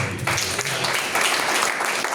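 Church congregation at a Sunday worship service gives a burst of dense, steady applause, many hands clapping together at close range for a couple of seconds.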